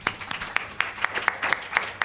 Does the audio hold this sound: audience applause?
yes